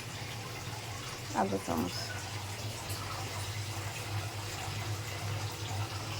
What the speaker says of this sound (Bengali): পরিমাণ মতো জল দিয়ে দিলাম